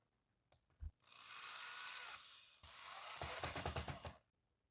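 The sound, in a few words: power drill driving screws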